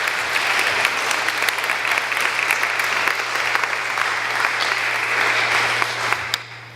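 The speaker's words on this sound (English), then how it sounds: "And let's give Ian a round of applause." An audience at a church gathering claps steadily for several seconds, a dense even patter at moderate distance that thins slightly at the end.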